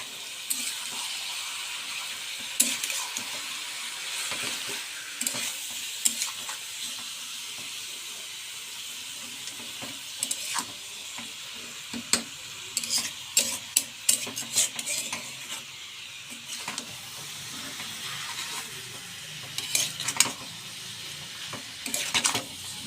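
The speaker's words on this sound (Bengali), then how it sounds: "अदरक लहसुन बाटा দিয়ে দেবো, ধনিয়া বাটা দিয়ে দেবো। এবার লাড়বো একটুখানি।" Chicken kosha with ginger-garlic and coriander paste is stirred in a hot pan, giving repeated close scraping strokes of a utensil against the pan over a soft, steady sizzle.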